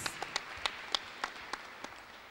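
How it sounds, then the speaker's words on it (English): Church congregation clapping hands during a service, a series of sharp, separate claps spaced at a steady rhythm, moderately close with faint room ambience and no talking. "Let us give glory to Jesus by clapping our hands louder for Jesus Christ."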